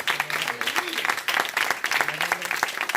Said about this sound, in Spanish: denle una ofrenda de aplausos al Señor